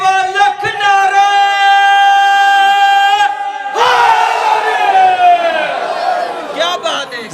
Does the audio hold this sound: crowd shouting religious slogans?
yes